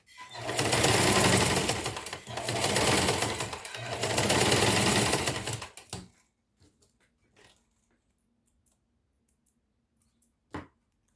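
Sewing machine stitching the lining and batting of a fabric school pencil case, running in three loud continuous close bursts of about two seconds each, then stopping, followed by faint handling clicks.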